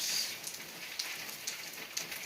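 Steady rain patters on a surface on a gloomy day, a dense continuous hiss broken by a few sharper drop taps about every half second. No one speaks.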